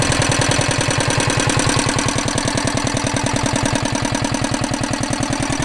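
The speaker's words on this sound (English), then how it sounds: "we can see the old Petter PAZ1 chugging away around here" An old Petter PAZ1 stationary engine chugs loudly up close, its rapid, even firing beats repeating without pause over a steady mechanical clatter.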